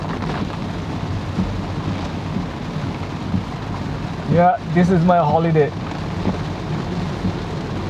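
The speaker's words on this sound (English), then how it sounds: "It's raining like crazy." Heavy rain pours down in a constant loud hiss outside Cologne, Germany, with a person speaking briefly partway through over the downpour.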